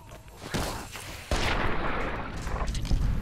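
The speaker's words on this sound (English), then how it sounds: "I just shot a defenseless animal trying to get food for its family." A gunshot fired at an animal in the video game Fallout New Vegas: a sharp, loud report that cracks over faint background sound, followed by a rumbling tail.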